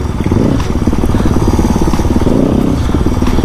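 A small motorcycle ridden slowly by a three-year-old girl, its engine putting out a steady, close, loud chugging drone with some clatter that holds without a break.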